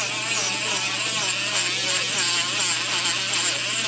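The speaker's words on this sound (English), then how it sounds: "Now I'm going to go to sanding wheel or disc." A sanding wheel or disc grinding metal while shaping the edges of a small airplane-shaped tie clip and removing black flux: a steady, loud, high-pitched whirring buzz with no break.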